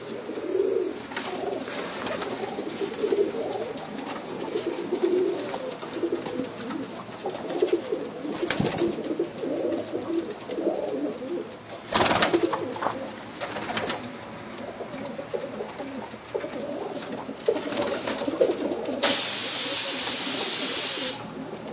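Golden Tadi pigeons, a rare Pakistani breed, coo softly amid a dim outdoor background with scattered rustles and bumps, ending in a loud steady hiss for the last few seconds.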